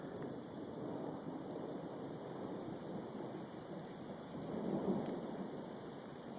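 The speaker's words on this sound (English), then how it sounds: "Here comes the rain." Steady rain pours during a thunderstorm, a dense continuous wash with a low rumble of thunder swelling briefly near the end; no voices.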